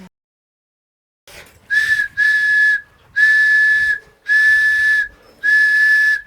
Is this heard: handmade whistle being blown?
yes